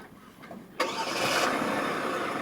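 A Hyundai Genesis 3.8L engine cranks and catches after a brief whir when its push-button start is pressed, then settles into a steady idle.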